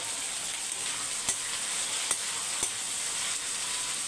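Tomatoes fry in a pan with onion masala, giving a steady close sizzle throughout, broken by a few sharp clicks of a spoon stirring against the pan.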